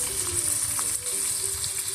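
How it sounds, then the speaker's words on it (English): Steady hissing sizzle of bacon frying in a pan, continuous and close, with faint crackles throughout. "So we're frying up bacon."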